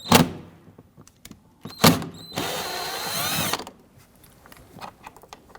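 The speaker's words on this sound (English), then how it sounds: "I'm going to go ahead and use my deep socket here." A deep socket loosens a 10mm screw on a 2010-2019 Ford Taurus front interior door panel, giving a single steady buzzing ratchet-like whir of about a second, framed by a few short clicks and knocks close by.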